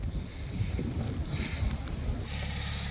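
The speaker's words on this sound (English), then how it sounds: "Now it's a very windy morning" Wind on a very windy, rainy morning near Peachland, British Columbia, a faint steady roar of gusts buffeting the microphone, with rising and falling surges and no talk.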